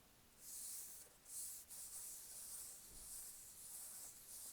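A felt Christmas ornament bow is rubbed and handled up close, producing soft, breathy swishes in several separate strokes, quiet and unaccompanied by voice.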